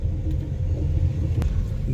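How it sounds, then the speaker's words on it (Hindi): Vehicles moving along a high mountain road in thick fog, heard as a steady low car rumble with engine drone throughout, close and continuous with no talk. "एक गाड़ियों का काफिला हटा।"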